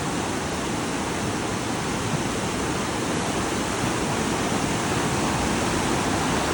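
Floodwater rushing in a steady, dense roar during a July 2024 flood in Ukraine; the loud, unbroken wash holds for the whole stretch without pauses or speech.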